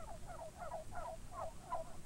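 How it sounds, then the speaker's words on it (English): Turkeys in a large farm flock give a steady run of repeated gobbling calls, about six rhythmic bursts in two seconds, moderately close, with no talking. "Farmer Brown also keeps a large flock of turkeys."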